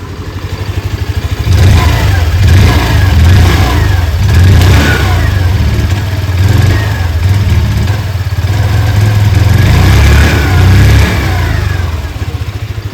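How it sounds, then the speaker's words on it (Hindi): A 2026 Hero Pleasure Plus Xtec 110 scooter in the top ZX variant runs with its engine close and loud, idling and then revving repeatedly so the exhaust note rises and falls, with no talk over it. "आइए अभी सुन लेते हैं इस स्कूटर की एग्जॉस्ट नोट।"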